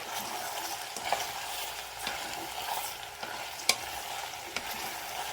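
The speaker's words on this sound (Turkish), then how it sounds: "Karıştıralım." A spoon scrapes and stirs through tomatoes, chili flakes and salt frying with vegetables in a pan for a pea and potato stew, soft sizzling under several sharp clacks of the utensil against the pan.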